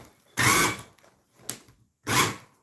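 A non-reversible power drill spins up in three short bursts in a garage, the first and last about half a second long and a briefer one between, separated by near silence.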